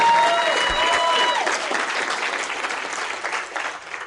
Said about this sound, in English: Let's give Denise and John a big round of applause.